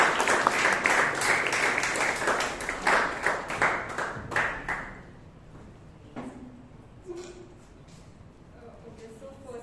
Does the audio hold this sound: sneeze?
no